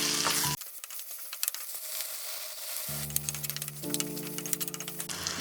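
A spiced onion masala for Tamil egg rice sautés in a pan, crackling and spitting close by with scraping stirs. The sizzle drops away briefly midway, then returns strongly with frequent popping.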